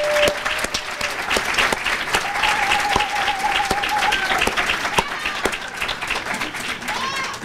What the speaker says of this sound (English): So I would really like to hold a round of applause for Jerry.